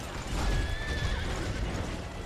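A horse in the video game Stranger of Paradise: Final Fantasy Origin whinnies in a high, wavering neigh over a steady wash of rumbling background noise.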